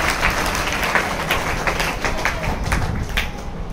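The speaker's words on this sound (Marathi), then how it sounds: "टाळ्यांचा गजर करूया." Applause from an audience at a Marathi temple-construction event, dense and steady throughout with scattered sharper claps, loud and close, and no voices over it.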